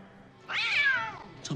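A tabby cat gives a single clear, rising then falling meow, close and fairly loud, with a short faint sound trailing at the end.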